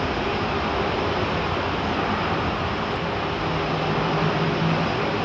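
A Boeing 787 Dreamliner rolls along the runway at Heathrow Airport, a steady, continuous broadband engine roar held at an even level throughout, with a faint low hum beneath and no voices.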